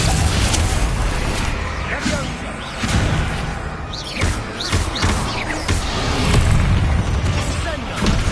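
Confringo spell blasts erupt during Hogwarts Legacy combat, a series of loud booming explosions and whooshes over a dense rumbling game soundtrack, with a voice shouting spell names.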